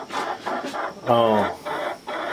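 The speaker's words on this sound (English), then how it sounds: "I can hear a chicken, and he's in that box there getting ready to lay an egg." A chicken in a nesting box in a backyard coop clucks before laying an egg, with repeated close clucks and a longer squawking call in the middle.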